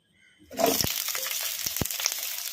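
Chopped onions hit two spoons of hot oil in a kadai, bursting into a loud sizzle with a couple of sharp clinks, then settling into a steady crackling fry on medium flame with no talk.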